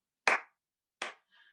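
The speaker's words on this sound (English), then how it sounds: "we can clap as well" Two sharp hand claps about three quarters of a second apart at a dementia-friendly sing-along session, close and dry in an otherwise silent room, followed by a faint soft tone.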